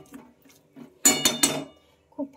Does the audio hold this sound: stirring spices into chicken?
yes